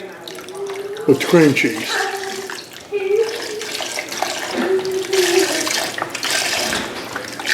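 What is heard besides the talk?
chicken broth being poured into a pot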